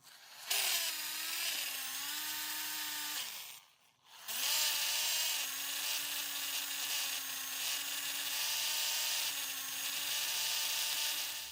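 An electric drill bores holes into an engine block for a roller cam conversion, a close, loud whine that pauses briefly and then resumes with its pitch wavering under load.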